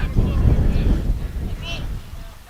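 Wind buffets a microphone during an outdoor high school baseball game as storm clouds roll in. It is a loud, low, continuous rumble that fades toward the end.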